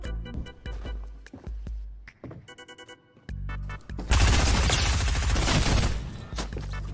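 Gunfire in a video game, sharp single shots and short bursts spaced out early on, then a loud continuous stretch of rapid automatic fire lasting about two seconds before a few final shots.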